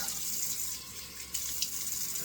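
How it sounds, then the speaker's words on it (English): Cold tap water runs steadily into a sink as someone rinses their face after a shave, a soft continuous hiss and trickle with a few faint splashes, close and quiet, no talking. "let's give a couple of splashes of cold water to rinse that off"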